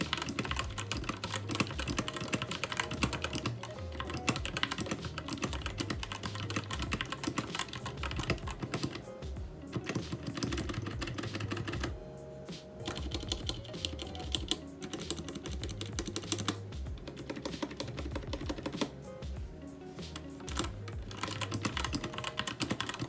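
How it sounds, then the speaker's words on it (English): Rapid typing on a DREVO Naga mechanical keyboard, close up: a dense, continuous stream of sharp clicky keystrokes with a short pause midway, no talking. "So now we'll get into a quick typing test."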